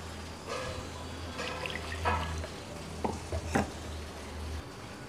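A spoon stirs and presses a strained paste for pani puri, with soft scraping and a few brief clinks against the vessel over a low, steady hum.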